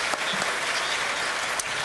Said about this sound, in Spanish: Por favor, vamos a aplaudir a nuestros ponentes